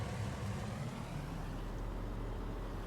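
A pickup truck in a Farming Simulator game on a large Kansas farm map drives along with a steady, low engine rumble and road noise, continuous and fairly quiet, with no talking.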